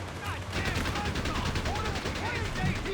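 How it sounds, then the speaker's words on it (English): Rapid machine-gun bursts from a German MG-42 with heavy barrels crackle steadily in Company of Heroes 3, mixed with distant battlefield gunfire and effects in a dense, continuous wash of combat noise. "MG-42. With the machine guns with heavy barrels"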